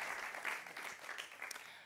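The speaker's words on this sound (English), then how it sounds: "So, big applause for Theresia." An audience at a conference on circular textiles claps for a speaker taking the stage, a short burst of many hands applauding moderately loud and close, fading slightly at the end.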